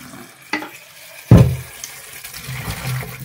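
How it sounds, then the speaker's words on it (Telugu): Green chillies and tomatoes are washed in water in a kitchen, giving a couple of sharp splashes and sloshes followed by soft trickling and rustling. "ఇప్పుడు ఇది మనం చక్కగా వాటర్లో కడిగేసేసుకుందామండి."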